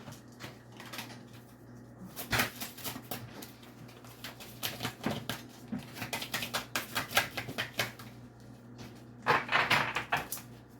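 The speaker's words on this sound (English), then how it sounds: "Two more shuffles and I'll pull from the top." Tarot cards being shuffled by hand, a series of quick crisp riffles and taps that come in bursts with brief pauses, close and moderately soft, with no talking.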